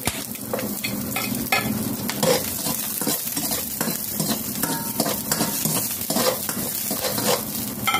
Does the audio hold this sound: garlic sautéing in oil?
yes